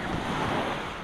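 Sea waves wash onto the beach at Dolphin beach in Lazarevskoye, Sochi, a brief, close, steady roar of surf mixed with wind noise on the microphone, and no voices.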